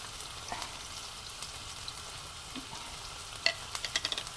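Onion, green chili and ginger-garlic paste frying in hot tempering oil in a home kitchen, a soft, steady sizzle with a few brief crackles and taps near the end.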